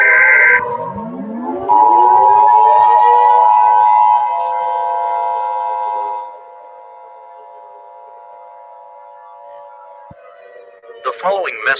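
Civil defense siren wailing loud and close, its pitch sweeping up to a sustained tone and then sliding down and fading, with a burst of broadcast noise at the end.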